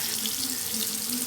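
Tap water running steadily into a sink while hair is rinsed, a continuous close splashing hiss with a faint tonal hum underneath and no speech.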